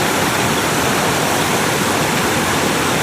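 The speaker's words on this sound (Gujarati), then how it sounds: "ડેમ છલો છલ દરવાજા અત્યારે ખુલ્લા છે. પાણી ધમધોખાર ચાલી રહ્યું છે." Water rushes through the open gates of a full dam in a constant, loud, roaring wash of broadband noise that stays steady and close throughout.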